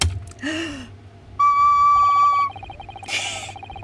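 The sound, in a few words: recorder blown like a police whistle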